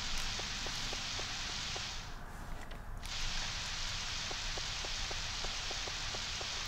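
Steady hiss of rain in the Harvest Moon 64 video game, a constant soft wash with a faint, regular ticking pattern running through it, no talking.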